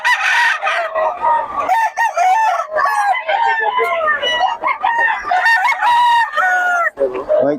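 Several roosters crow one after another at a Bulacan chicken farm, loud and close, their calls overlapping almost without pause, with a voice briefly underneath.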